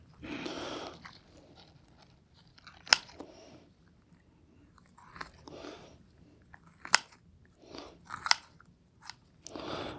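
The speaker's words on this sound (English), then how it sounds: "So let me get these cut." Scissors snip through pig heart and lung tissue during an organ dissection lab, giving several sharp, close clicks and crunchy cuts spaced irregularly over quiet room background, with no talk.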